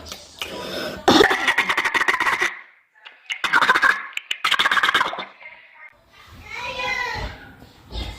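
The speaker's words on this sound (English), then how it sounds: "She coughs and coughs for no reason." A girl gives repeated bursts of coughing in clustered fits, close and fairly loud, separated by short pauses, with a longer throaty cough near the end.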